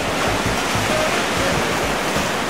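Sea waves break and wash continuously at the port of Riccione, a loud, steady broadband roar of surf with no distinct gaps.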